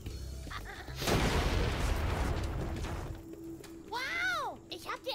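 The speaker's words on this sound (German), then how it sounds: "Wow, ich habe die Explosion echt überlebt." A loud explosion rumbles through Spyro 3: Year of the Dragon (Reignited Trilogy), a broad, sustained blast lasting about two seconds, followed by quieter game sounds and a swooping, warbling effect.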